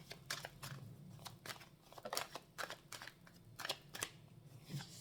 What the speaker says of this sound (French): On bat bien les cartes.